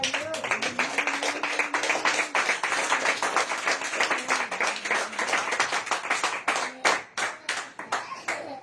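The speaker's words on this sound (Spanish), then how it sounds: "Den aplausos al Señor." A church congregation claps together in steady, dense applause, close and loud, with a few voices calling out over the rhythmic hand claps before it thins near the end.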